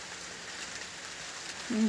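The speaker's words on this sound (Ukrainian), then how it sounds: "Де цей дощ узявся?" Steady rain falls outdoors as a soft, even hiss, faint and continuous throughout, with a brief low voice near the end.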